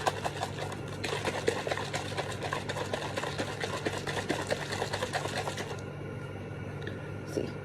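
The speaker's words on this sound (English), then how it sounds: "You shake the bottle vigorously." A bottle of honey is shaken hard, giving a fast, rhythmic liquid sloshing that is fairly quiet and stops near the end, leaving a softer hush.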